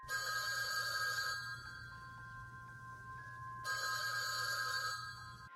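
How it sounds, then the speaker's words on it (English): A telephone bell rings in two bursts separated by a pause, bright and metallic, fairly close in a quiet room with a low hum beneath. "It was a typical night at home when the phone rang"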